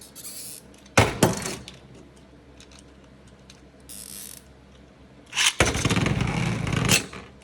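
Spinning Beyblade top clattering against a plastic stadium, with two loud rattling bursts of collisions separated by a quieter whirring stretch, no voices.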